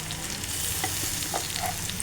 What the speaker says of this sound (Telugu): ఈ టమాటా ప్యూరీని మొత్తం వేసేస్తున్నాం ఇందులో